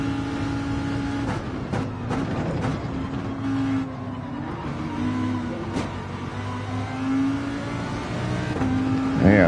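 Car engine droning steadily in Gran Turismo 7, with sustained tonal hum and occasional revving surges as the car slides, someone talking intermittently over it.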